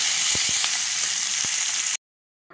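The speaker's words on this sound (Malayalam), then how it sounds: "കടുക് നല്ലോണം പൊട്ടി അതിലേക്ക് ഉണക്കി മുളക് ഇട്ട് കൊടുത്തു." Mustard seeds, dried chillies and curry leaves sizzle in hot oil as a tempering, a steady close hiss with a few faint pops that cuts off abruptly into silence.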